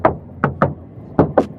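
Knuckles rap on the hard, scratchy plastic door panel of a Renault Triber: five sharp, close knocks in two uneven groups, with no talking.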